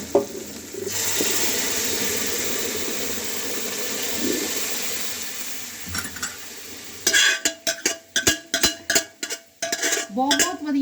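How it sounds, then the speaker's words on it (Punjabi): Chana dal tipped into a pot of boiling water, a soft watery bubbling first, then a run of sharp clinks and scrapes from a utensil against the pot, close and fairly loud. "ਹੁਣ ਅਸੀਂ ਇਹਦੇ ਵਿੱਚ ਦਾਲ ਪਾ ਦਾਂਗੇ ਆਪਣੀ ਤੇ ਨੂੰ ਥੋੜੀ ਦੇਰ ਰਿੰਨ ਲਵਾਂਗੇ ਇਹ ਦੇਖੋ ਦਾਲ ਸਾਡੀ ਪੈਣ ਲੱਗੀ"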